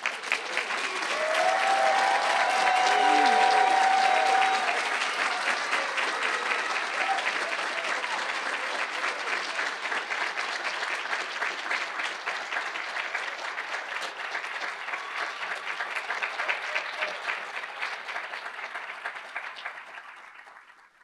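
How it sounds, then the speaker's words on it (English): A large audience gives a long, sustained round of applause for graduating master's students at the 2023 UW-Whitewater College of Business and Economics hooding ceremony. The clapping is full and even, swells early, then gradually thins and fades out at the end. "Please join me in applauding their accomplishment."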